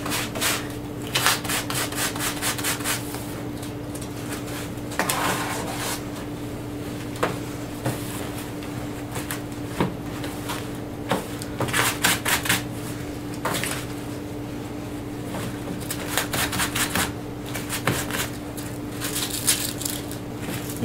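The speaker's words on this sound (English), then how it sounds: "Take your sandpaper. And just go over those holes that you just made." Sandpaper scrubs over holes in a fabric costume being distressed, giving a soft, steady rasping rub with quick bursts of strokes, close and alone, over a low constant hum.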